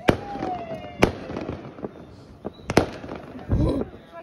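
Fireworks bursting over a warm beach: a string of sharp cracking booms at irregular intervals, one whistling rise, and a crackling fountain near the end, with some crowd noise in the background.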